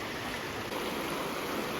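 Water from a waterfall pours and splashes in a steady, full rushing wash that holds evenly throughout, close and unbroken, with no talk over it.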